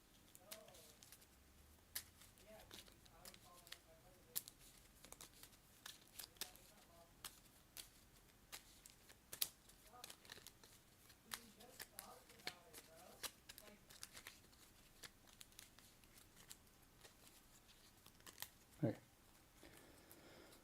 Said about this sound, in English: I got to shuffle all these cards together because it's that time.